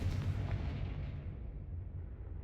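Confringo blasting spell going off in Hogwarts Legacy, a loud rumbling explosion that booms at once and then slowly fades away, with no talk.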